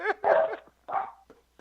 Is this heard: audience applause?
no